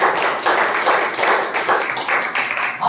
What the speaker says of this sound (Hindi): ताली बजा के परमेश्वर को